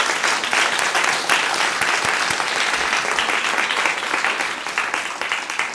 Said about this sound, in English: So please join me in giving him a round of applause.